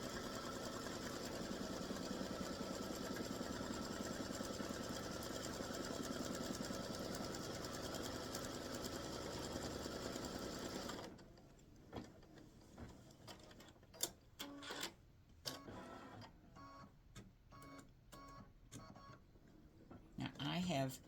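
A sewing machine stitches an appliqué tack-down in a long, steady, even run, then stops, and scattered clicks and handling sounds follow under a voice.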